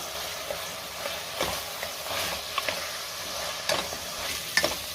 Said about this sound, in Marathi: पुन्हा आपण 1 मिनिटभर व्यवस्थित परतून घेऊयात भाज्या